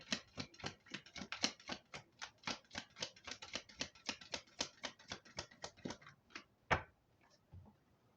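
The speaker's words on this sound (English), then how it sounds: "Let's just get one more shuffle in regards to this energy." Tarot cards being shuffled by hand, a quick run of crisp, evenly spaced riffling clicks that trail off into a final snap and near silence, close and fairly quiet.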